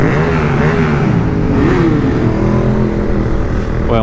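A KTM 390 Duke motorcycle, its exhaust fitted with the baffle, revs loudly and close by. The engine note climbs and falls in a throaty, harmonic-rich burst.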